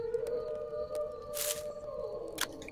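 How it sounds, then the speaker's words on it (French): Wolf howling in the survival game The Last Plague: Blight, a long sustained wavering cry heard at a distance, with faint rustling and a couple of brief noise bursts around it and no talking. "J'ai entendu un loup gueuler."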